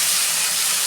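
Tomato and three slit green chillies sizzling loudly in a hot pan of oil, a steady close hiss that continues without a break.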